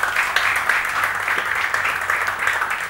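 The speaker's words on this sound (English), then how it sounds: "And round of applause." Audience clapping rings out at a felicitation ceremony for Asian Games winners, a steady rhythmic applause with a bright, slightly reverberant hall tone, continuing evenly for a few seconds.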